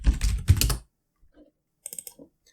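Short bursts of keystrokes on a computer keyboard as a folder name is typed, loud at first then fading to a few soft, scattered clicks after a pause.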